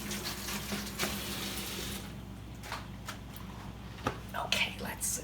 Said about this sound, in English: I'm going to rinse my hands again